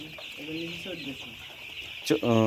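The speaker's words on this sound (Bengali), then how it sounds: "কতটি মুরগি আছে ভাই আপনার এখানে" Chickens on a poultry farm clucking close by in short, repeated calls against a constant high buzzing background, with one louder, sharper cluck near the end.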